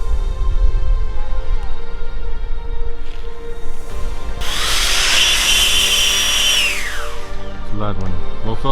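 A Freewing A-10 Thunderbolt II RC jet with twin 80mm electric ducted fans spools up to a loud, high whine over a low mechanical rumble, holds for a few seconds and then winds down, with voices in the background.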